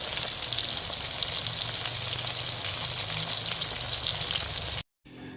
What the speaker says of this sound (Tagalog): isalang ko na po itong isda at ako po yung nagpiprito na